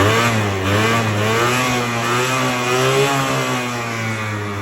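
A Sym Jolie DD50 50cc two-stroke scooter revs loud and close while riding down a street, its buzzy engine note rising and falling through several throttle blips with no talk.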